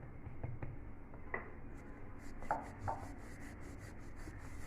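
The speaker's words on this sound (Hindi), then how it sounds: "इस तरह बेल लूँगी।" Faint, soft rubbing from a rolling pin pressing radish paratha dough on a board, with a few light taps and knocks over a quiet kitchen background.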